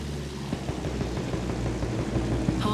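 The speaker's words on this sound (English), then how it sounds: "Look up! Plane!" A propeller warplane drones overhead during Battlefield 1 combat, a steady rumbling engine hum under scattered distant battle noise, moderately loud and continuous.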